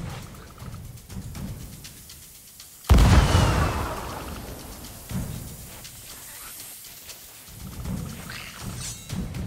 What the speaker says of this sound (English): That's the second cannon.